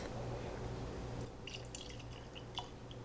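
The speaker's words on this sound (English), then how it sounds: "I'm going to pour a little bit for myself." Wilderness Trail bottled-in-bond bourbon is poured into a glass, a steady liquid trickle followed by a few light drips and clinks, close and quiet over a low background hum.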